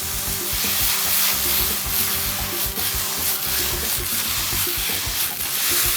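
Chicken, finely chopped potato and carrot, garlic and ginger stir-fry in a pan, giving a steady close sizzle with repeated scraping and stirring strokes, no voices.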